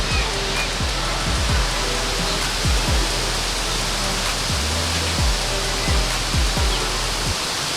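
Steady roaring rush of a waterfall at a hidden falls in Thailand, a dense continuous wash of water noise close by, with occasional low thumps of handling or footsteps on the slippery ground underneath.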